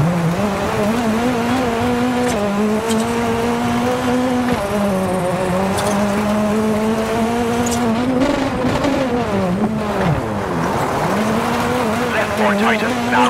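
Hyundai i20 WRC rally car in WRC 9 racing a reversed gravel stage at Rally New Zealand near Auckland, engine loud and close, pitch rising and falling through shifts and braking, with a co-driver's voice calling notes over it.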